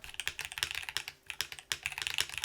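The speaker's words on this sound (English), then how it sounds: "Comfy to type on too." Typing on the Reverie mechanical keyboard with Cherry lip-fixed keycaps, close and crisp clacky keystrokes in quick irregular bursts with short pauses, alone without talk.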